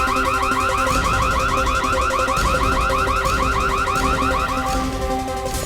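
A security alarm system rings loudly and continuously, a rapidly warbling electronic siren cycling without pause, with no talk over it.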